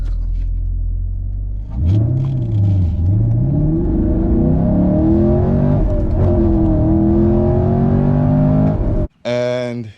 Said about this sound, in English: what it sounds like once you're under acceleration on the interior of this car